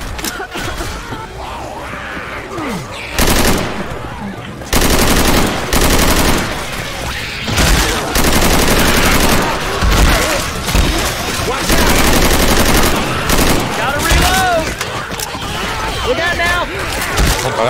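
Rapid, loud bursts of automatic gunfire and shotgun blasts from zombie-shooting combat in Left 4 Dead 2 on a custom city map, with dense volleys nearly continuous, grunts and yells from characters and players talking between shots.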